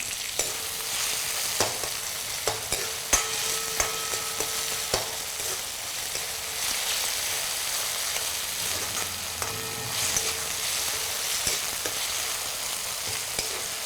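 Chopped onions and tomatoes frying in a pan, a steady sizzle with scattered stirring clinks and scrapes throughout, no talking.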